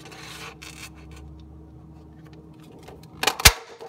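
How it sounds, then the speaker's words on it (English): A Fiskars hole punch cuts a 2.5 inch circle from paper: faint rustling, then one sharp, close crunching snap near the end, with no talking. "I'm gonna get a little closer to it so that the Fiskars hole punch do its magic"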